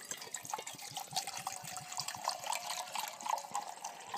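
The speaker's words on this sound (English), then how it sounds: "Let's pour some water in there." Water poured into a metal canteen cup holding vermicelli and sausages outdoors, a steady splashing trickle with small drip-like transients running throughout the clip, fairly close and unaccompanied by talk.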